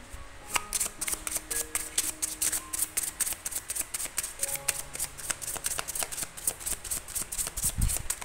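A tarot deck is shuffled by hand in quick, crisp riffles and taps that repeat steadily for several seconds. The sound is fairly quiet and close, with no clear speech over it.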